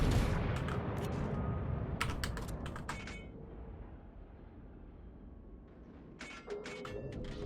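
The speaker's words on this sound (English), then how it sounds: "Can we maybe get the front guns to clear that?" Warship front guns firing in World of Warships, heard as a rough booming rumble at the start that fades out, with keyboard clicks in quick clusters over it.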